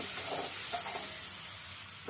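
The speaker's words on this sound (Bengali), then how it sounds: "এবার ফোড়নটার সাথে দিলাম একটু ভেজে নিয়েছি জিরাটা ভাজা হলে না ফোড়নের ভিতরে দারুণ একটা ফেন দিল" Cumin fries with tempering spices in hot oil, a brief, quiet hiss and sizzle with a few soft stirring scrapes and no speech.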